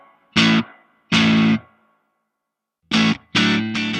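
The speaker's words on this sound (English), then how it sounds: "Use the air spring reverb effect to add realism to the sound of the amp sim." Electric guitar played through an amp simulator with a spring reverb effect, struck in short distorted chords and stabs separated by silences, each tail carrying a brief reverberant decay.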